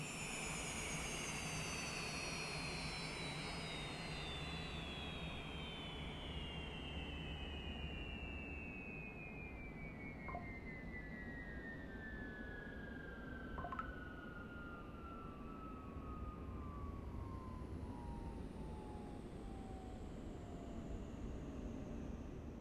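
Cessna Citation Longitude jet engines spooling down in Microsoft Flight Simulator 2024, a long steady descending whine over a low rumble, with a couple of faint clicks partway through.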